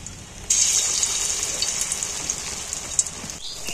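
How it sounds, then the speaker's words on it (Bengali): Battered pieces drop into hot oil and burst into a loud, steady crackling sizzle that sets in abruptly and keeps bubbling close by. "এইবার আমি একটা একটা করে এর মধ্যে গুলিয়ে তেলের মধ্যে ছেড়ে দিই। তেলটাও গরম হয়ে গেছে।"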